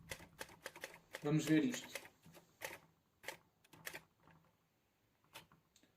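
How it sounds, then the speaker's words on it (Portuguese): Keys striking on a manual typewriter in sharp, irregular clacks, with a dense burst of rapid strokes near the start. Someone speaks over and between the keystrokes. "essa introdução eu gravei nessa máquina de escrever aqui"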